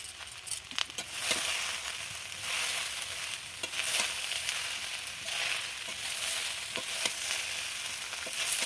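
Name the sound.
cabbage and vegetables frying in a wok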